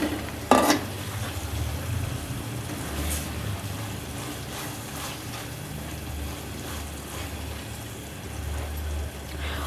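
Fried okra being stirred gently into masala in a pan, with a steady low sizzle and soft scraping of the spoon throughout, a sharper clatter near the start, and no talking.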